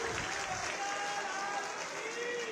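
A crowd at a Krishna Janmashtami event in Mathura claps in steady, dense applause that fills the space, with faint voices mixed in underneath.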